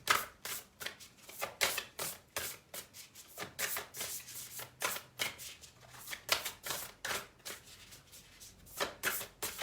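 Oracle cards are shuffled in steady, rapid riffling bursts, close and fairly quiet, with brief pauses between runs and no talking.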